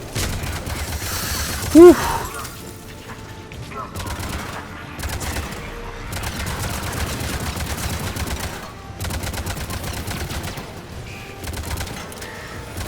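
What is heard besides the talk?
gunfire from guns in the video game Mass Effect 3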